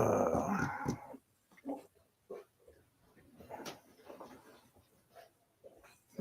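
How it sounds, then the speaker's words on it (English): A dog at home growls and gives a few short barks, loud at first and then in scattered bursts of varying strength over a quiet indoor background. "she seems to bark at a lot of stuff lately"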